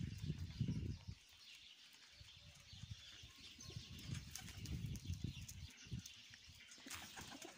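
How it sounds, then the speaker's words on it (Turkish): A tumbler pigeon in flight, its wings flapping in faint, fluttering bursts against a quiet outdoor background. "Kuşumuz da orada uçuyor."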